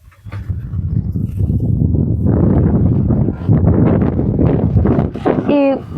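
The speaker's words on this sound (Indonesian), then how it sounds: "Anginnya besar sekali." Strong wind roars across the microphone outdoors at a house in the middle of a forest, a steady heavy rush that swells and buffets for several seconds while voices talk underneath.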